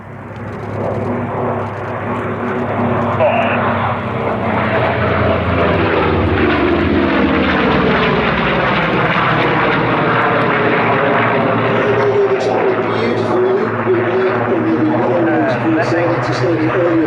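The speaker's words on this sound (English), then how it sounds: "as you can see from the aircraft running in now" A vintage propeller fighter owned by the Fighter Collection from Duxford runs in at the Sywell airshow, its loud piston engine building quickly and then holding a strong, throbbing roar as it passes close by.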